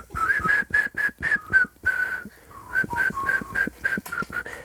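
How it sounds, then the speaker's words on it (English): A person whistles a quick, bouncy run of short, bright notes in a steady rhythm, clear and close, with a brief pause midway before the tune resumes. "Can you whistle like, you know, do that?"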